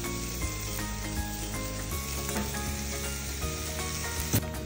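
Washed, chopped spinach goes into a hot pan for palak rice and sizzles loudly and steadily up close, with faint stirring clatter and no voices.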